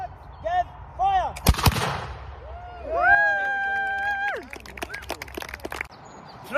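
A single loud, sharp report from a matchlock musket volley at a living history display, booming out with a long decaying rumble, while birds chirp and voices call nearby.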